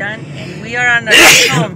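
A single loud sneeze bursts out near the end, following someone speaking at close range, at a large liquor store in Denver, Colorado.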